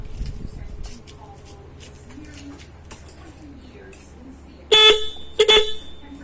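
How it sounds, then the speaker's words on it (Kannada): A loud new horn fitted to a Bajaj auto rickshaw is tested with two sharp blasts, a longer honk then a shorter one, near and loud after quiet workshop background with a bird cooing. "ಸೊ ಹಾರ್ನನ್ನು ಚೆಕ್ ಮಾಡುವ."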